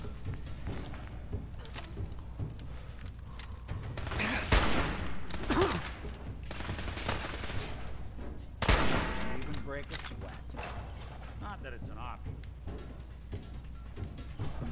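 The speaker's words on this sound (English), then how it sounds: "the turret going off" Automated turret fire in Fallout 4, rapid bursts of gunfire in several volleys with louder cracks around the middle and sparser shots trailing off, steady and fairly close.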